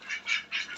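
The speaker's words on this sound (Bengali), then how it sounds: "সব পিছনে যে চীনা হাঁসগুলো" Chinese ducks quack at feeding time, three short nasal quacks close by with brief gaps between them and no other sound.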